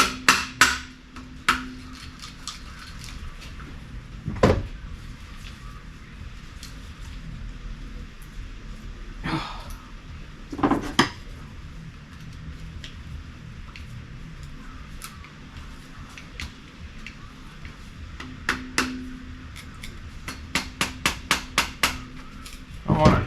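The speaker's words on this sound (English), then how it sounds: "I'm just trying to hammer into where that rubber seal is" Close metal hammer blows strike near a rubber seal during the rebuild of a 1968 Mercury Monterey 390: sharp single knocks spaced irregularly, then a quick burst of repeated taps toward the end over a quiet room.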